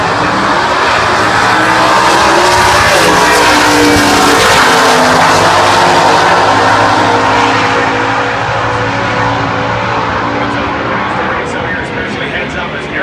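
A 1956 Chevy Nomad drag car with a 265-cubic-inch small block Chevy and automatic transmission, running in super stock at the U.S. Nationals, roars loud and sustained at full throttle, fading slightly toward the end, with an announcer talking over it.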